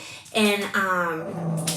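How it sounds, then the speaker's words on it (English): A dog whimpers and gives a low growl, close and brief, mixed in with a person speaking over it. "excuse my dog"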